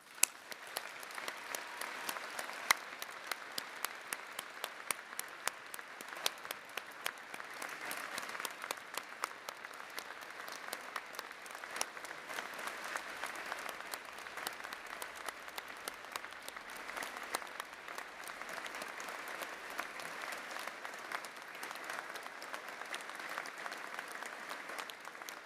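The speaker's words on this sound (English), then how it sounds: "Please let us applaud the achievement of Loveline Ntoa Besong today." Sustained applause from a graduation ceremony audience, steady clapping filling the hall for the whole stretch with no speech over it.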